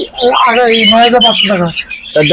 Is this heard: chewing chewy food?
no